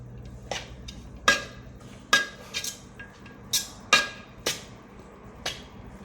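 A spoon stirring prawn biryani in a pot, about eight separate metallic clinks and taps at an uneven, unhurried pace, close and fairly faint against quiet surroundings.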